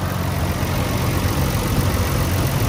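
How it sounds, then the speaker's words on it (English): A 1999 Nissan Skyline R34 GT-R engine idles steadily with the hood open, a smooth, close, continuous low rumble with a faint light tapping underneath, no talking. "Engine running."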